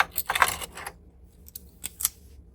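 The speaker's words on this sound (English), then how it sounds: "I'm going to cut my yarn because I'm done" Scissors snip through knitting yarn in a few short, crisp cuts close by, a quick cluster followed by two more isolated clicks.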